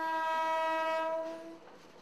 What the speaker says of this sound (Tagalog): Tunog pa lang daw ng tren, mukhang palyado na.